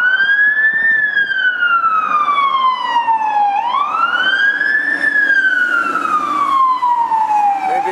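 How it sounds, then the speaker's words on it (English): A fire truck siren wails loudly and steadily, its pitch rising and falling in long sweeps as it passes nearby with engine rumble underneath. "it's been a bunch of fire trucks going by."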